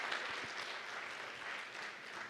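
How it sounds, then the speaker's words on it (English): A conference audience applauds a plenary panel on AI and development in Africa, a steady, fairly faint wash of many hands clapping that continues without a break. "a round of applause, I think, from the audience for my panel, please"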